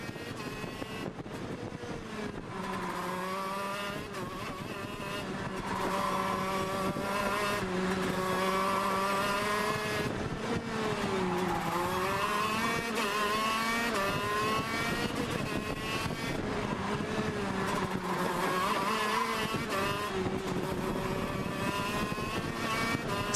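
A KZ shifter racing kart engine screams around the Genk circuit during a European Championship final, its high buzzing note rising through the gears, dipping hard under braking for a hairpin and climbing again, loud and continuous with no talking.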